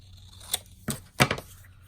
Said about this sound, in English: Cut a little bit off the top.